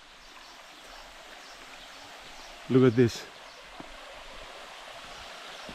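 A stream and waterfall in Cyprus flow in a steady, soft, continuous rush, with someone speaking briefly over the water midway.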